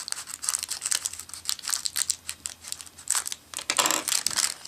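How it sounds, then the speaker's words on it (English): A plastic bag holding a silicone iPhone 4 case is cut open at close range, with bursts of crinkling and tearing plastic that rise and fall in rapid irregular rustles, no talking. "And let's cut this bag open here."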